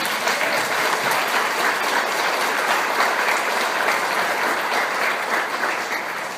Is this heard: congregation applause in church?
yes